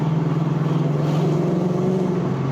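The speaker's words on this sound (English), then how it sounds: "the exhaust sounds different too. Way more like throaty in the mid-range" A steady, low engine drone from an Infiniti Q45 with a throaty exhaust rumble, idling or cruising evenly throughout.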